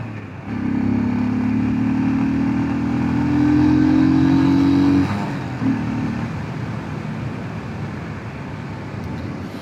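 Motorcycle on a licence test ride pulls away and accelerates, its engine tone climbing steadily for several seconds, then easing off as road and wind noise take over.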